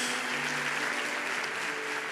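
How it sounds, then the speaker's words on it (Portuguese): A church congregation claps loudly and continuously, a steady wash of applause filling the whole short stretch at even strength. "Você pode dar ao Senhor um forte aplauso."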